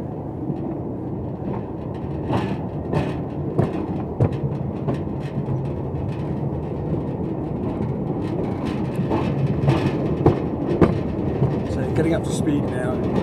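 A gravity train wagon freewheels downhill on the Ffestiniog Railway with a steady, close rumble and scattered rail clicks that build slightly toward the end, while voices murmur faintly underneath.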